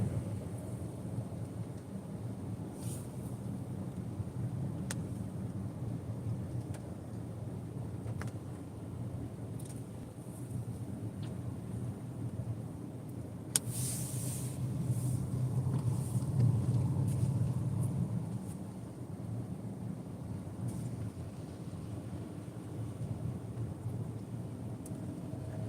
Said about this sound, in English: It's raining and sprinkling.